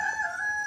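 A rooster crows in a single sustained, fairly distant call, with no voices.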